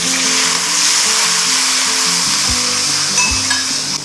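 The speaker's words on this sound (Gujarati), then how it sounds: "હવે ફટાફટ ટમેટાં નાખી દઉં." Tomatoes drop into very hot oil with green chillies in a pan for sabudana khichdi, giving a loud, steady close sizzle with occasional clatter of stirring.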